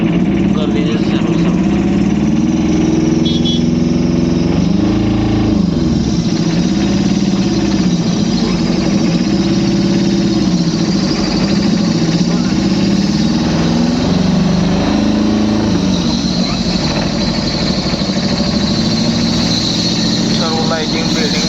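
Loading truck engine droning steadily while driving on the road from Solapur to Parbhani, a loud, constant mid-pitched rumble with slight shifts in pitch throughout, with people talking over it.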